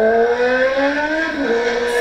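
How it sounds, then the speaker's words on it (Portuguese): A car engine revs in a sustained, loud rising drone with steady harmonic tones, close by and heard alone for about two seconds. "Acelerou o negócio, faz barulho"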